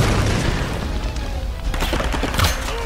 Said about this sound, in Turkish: O bomba sende patladı.